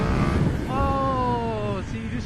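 Road traffic heard while riding a 2020 KTM Super Duke R motorcycle: steady wind rush under a nearby vehicle's engine tone that glides downward as it passes close, over about two seconds.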